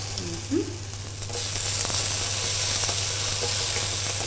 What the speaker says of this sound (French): on pourra mettre nos graines de courge et suivre la cuisson